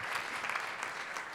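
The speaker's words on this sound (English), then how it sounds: "We need more applause" Steady applause from an audience at a business event as executives are introduced, a continuous wash of clapping at moderate level with no voices over it.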